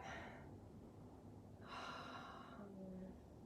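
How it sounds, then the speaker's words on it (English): Soft snorting breaths, a slow inhale-exhale snore from a dog close by, quiet against a faint background hum. "my dog is starting to snore"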